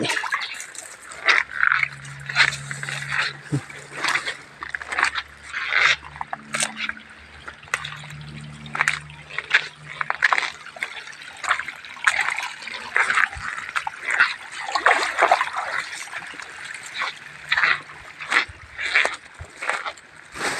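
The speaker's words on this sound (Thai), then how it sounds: "น้ำไหล" Rainwater from a recent downpour trickles and splashes steadily outdoors, a soft continuous flow with irregular drips, while a dog whimpers and a voice talks intermittently over it.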